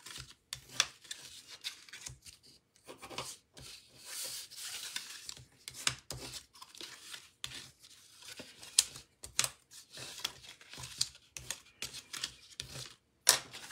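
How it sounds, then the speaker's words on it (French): Paper being creased along the folds of a handmade paper box, with quiet rubbing, scraping and crisp snaps coming in short irregular bursts, close up and fairly soft. "On va marquer tous les plis."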